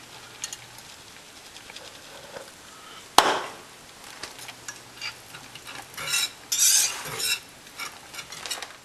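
A spoon stirs shredded cheese into a boiling sauce in a pot, giving scraping, clinking strokes with one sharp knock and a run of louder bubbling, wet scrapes toward the end.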